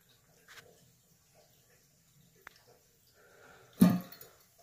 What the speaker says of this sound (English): So flush, let all the water get empty.